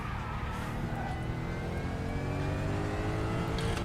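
A Mercedes GT4 race car in the RaceRoom racing game gives a steady, loud engine drone with a rising whine as it accelerates, heard close and without pause.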